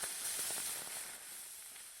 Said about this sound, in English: Oh, just that sizzling.